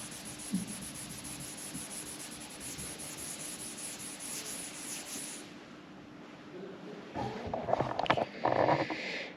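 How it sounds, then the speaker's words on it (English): Oil-based stain being rubbed by hand into wooden panels of an aircraft fuselage, a soft continuous close rubbing and wiping that changes to louder, scrubbing strokes toward the end, with no talking. "I'm just rubbing in the oil"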